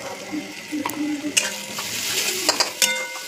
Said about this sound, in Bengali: মশলাটাকে ভালো করে কষিয়ে নিয়ে প্রায় হয়ে এসছে কষা।